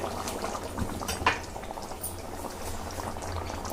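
Water at a rolling boil in a pot for vegetable biryani, a continuous bubbling and gurgling with small pops, close and steady.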